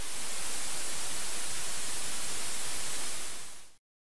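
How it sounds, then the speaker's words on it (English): Steady, loud broadband analog-style hiss from a WAVDSP Magic Suite audio plugin plays alone, like analog tape noise, then cuts off abruptly to silence near the end. "You can hear there's that kind of hiss sound there."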